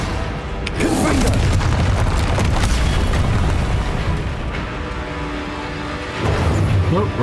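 Heavy, booming blasts of the Confringo explosive spell in Hogwarts Legacy roll through continuously, one burst bleeding into the next, loud and close with a rumbling low end and fresh impacts near the start and end.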